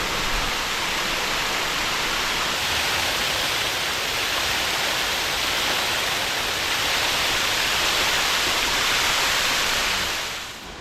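Huai Yang waterfall at the first tier, in a national park, a loud, constant broadband roar of falling water filling the whole stretch and easing off slightly at the very end, with no voices.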